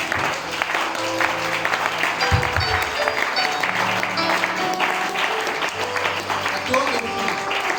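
A church congregation applauds during a worship sermon, clapping steadily beneath sustained music and background voices.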